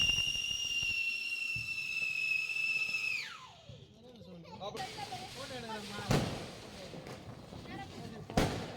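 A whistling Diwali firecracker shrieks steadily, then slides down in pitch and fades before sharp cracking bangs go off nearby, with a person talking in the background.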